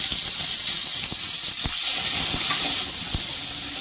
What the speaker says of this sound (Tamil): இப்போ கொஞ்சம் கடுகுலாம் பொரிஞ்சிடுச்சு.